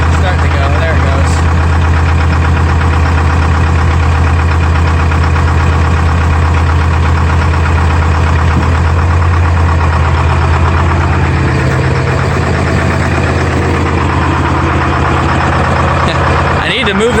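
A Clark 453 skidder with an old Detroit diesel engine catches on a cold start and settles into a loud, steady, close-up rumbling idle that runs throughout with a knocking, rough edge.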